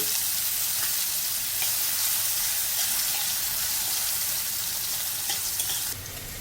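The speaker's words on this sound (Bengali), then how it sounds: "আর এক টেবিল চামচ পোস্ত দানা একটুক্ষণ ভেজে নিয়ে ছোট ছোট টুকরো করে কাটা একটা আলু দিয়ে দেব" Poppy seeds fry in hot oil in a pan with diced potato, giving a loud, continuous close sizzle with faint crackles and no talking.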